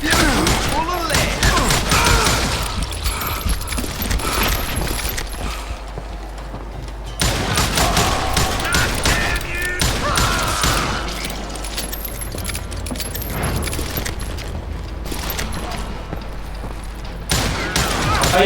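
Gunfire in the Western shooter Call of Juarez Gunslinger, loud repeated shots in clustered volleys over about eighteen seconds, with clattering game effects, brief lulls between exchanges and voices speaking over the action.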